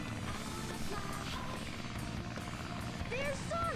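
Steady droning engine of the transforming plane in Sonic Adventure DX, a continuous helicopter-like buzz that runs throughout at even loudness, with game chirps near the end and a voice talking over it.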